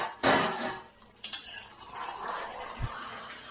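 Metal utensils scraping and clinking against a pot while meat cooks, a few sharp knocks and clanks spaced irregularly over a faint background, fairly close.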